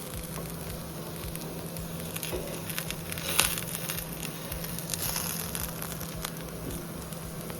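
A vegetable adai made with aval and semiya fries in oil on a pan, giving a continuous close sizzle with light crackles and pops that stay even and unbroken throughout.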